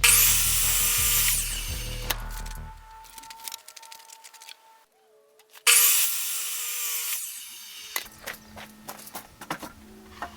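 Hand saw notching treated 4x4 wooden posts, two bursts of close, rasping strokes separated by quiet handling noises and light knocks.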